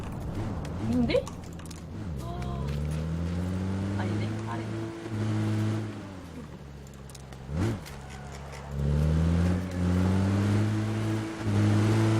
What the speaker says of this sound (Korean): 온다 온다 차도 온다